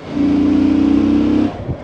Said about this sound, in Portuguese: Eu gosto de fazer aqueles arranques porque é quando eu sinto mais o motor